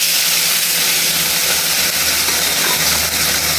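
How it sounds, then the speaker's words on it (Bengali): Raichor fish frying in hot oil in a kadai, giving a loud, continuous close-up hiss and spatter with no voices. "তেলটা গরম হয়ে গেছে, মাছগুলো ছেড়ে দিলাম আমি।"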